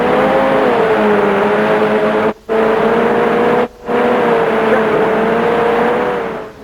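Racing car engines in the video game Wild Wild Racing, a loud steady droning whine that holds a continuous pitch throughout, cut by two brief dropouts, with a voice faintly present beneath.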